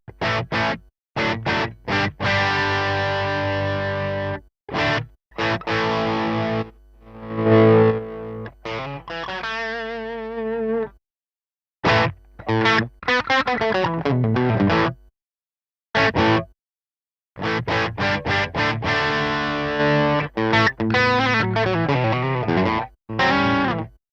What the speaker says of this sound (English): Let me just turn off the reverb and delay just so you can just hear the doubler.